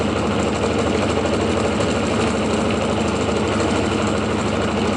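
A homemade pulse motor with 2 inch magnets runs at a steady speed, giving off a constant loud buzzing drone with fast rhythmic pulsing throughout.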